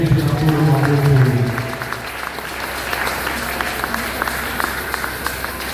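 A church congregation applauds in praise of God, with steady clapping that continues after a voice at the start.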